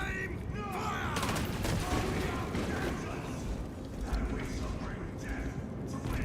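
A firing squad rifle volley in the video game Space Marine 2 erupts as a dense, loud burst of gunfire and mechanical clatter that sustains throughout, with sharp cracks standing out early on.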